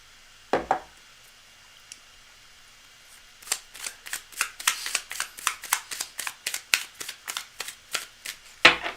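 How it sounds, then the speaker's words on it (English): A deck of cards shuffled by hand during a live card reading: a brief riffle near the start, then a long run of rapid, crisp, evenly spaced card flicks and riffles, close and fairly loud, with no talking. "we are very well shuffled right now. Bless this deck, bless all these cards"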